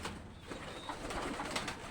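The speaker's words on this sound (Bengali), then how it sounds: "আমাদের বাসায় কবুতরও আছে, দেখেন কি সুন্দর। এগুলো সব কবুতর।" Pigeons coo softly in a small coop kept at home alongside chickens, faint murmuring calls under a steady background rustle.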